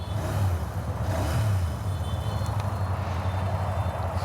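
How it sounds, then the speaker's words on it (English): A Royal Enfield Interceptor 650 motorcycle's exhaust runs at a steady, close, loud idle with a low throbbing drone and slight rises in pitch, continuous throughout with no talk. "you can check out the exhaust"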